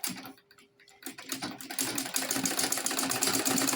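A sewing machine stitches a lady's shoulder bag, starting with a few slow pulses and settling into a fast, steady mechanical rattle close by.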